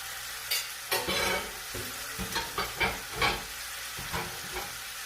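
Lemon chicken juices poured back into a hot pan give a steady sizzle, broken by a series of rhythmic stirring scrapes and bursts of frying, heard up close with no voices.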